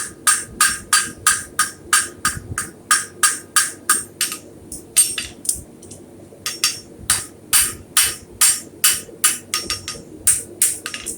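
A farrier hammers hot steel on an anvil while forging hot fit tongs. The blows are close and loud, falling in a steady rhythm of ringing strikes with brief pauses, and no one speaks.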